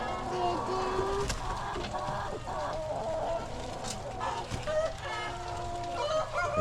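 Chickens cluck and a rooster crows amid a busy chicken farm, many birds chattering close and distant while people talk faintly.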